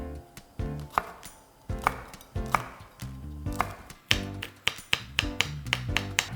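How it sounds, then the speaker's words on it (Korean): Knife chopping red chili pepper and green onion on a cutting board: quick, sharp, irregular taps close by, coming in bursts with no talk. "홍고추하고 대파는요, 송송송 썰어서 준비할 건데요."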